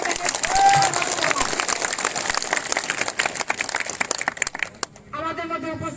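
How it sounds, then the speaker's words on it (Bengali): A crowd at an election campaign rally in Murshidabad claps together, a dense, steady patter of many hands that breaks off near the end as a voice over a loudspeaker takes over. "প্রার্থীর জন্য আপনারা সকলে একবার জোরে হাততালি দিয়ে দেবেন।"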